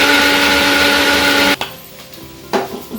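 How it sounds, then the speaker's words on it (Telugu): Kitchen blender pureeing tomato pieces, a loud, steady high-pitched motor whir for about a second and a half, then cutting off, with a brief clatter afterward. "టమాటా ముక్కలు కూడా ప్యూరీ చేసుకోవాలి"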